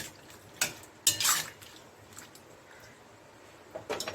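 A spoon stirs aloo dal with mango in a metal pot, giving a few sharp scraping clinks and knocks separated by quiet gaps, fairly close and moderate in loudness.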